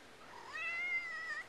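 A house cat gives a single drawn-out meow with a rising then falling pitch, close and clear against quiet background, with no talking.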